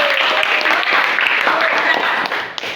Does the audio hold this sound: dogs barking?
no